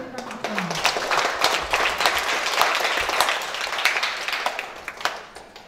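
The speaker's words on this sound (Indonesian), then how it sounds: "Kita berikan tepuk tangan." A seminar audience applauds to welcome a speaker to a talk on writing articles, a sustained burst of many hands clapping at close range that fades out at the end.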